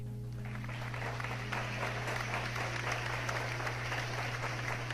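A church congregation claps for the Lord in steady, dense applause that builds quickly and holds evenly throughout, sounding full and close in a reverberant hall.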